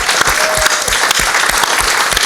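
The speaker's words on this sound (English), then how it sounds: "Ladies and gentlemen, give a big round of applause for our panelists." Conference audience applauding panelists at a panel discussion, loud, dense, sustained clapping filling the room throughout.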